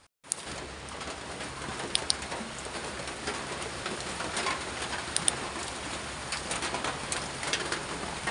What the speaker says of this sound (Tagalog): Lumalakas na po yung ulan.